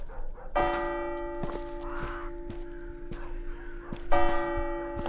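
A bell in the video game DarKnot rings out twice, each strike loud and resonant with a long sustained tone, alongside scattered crow caws.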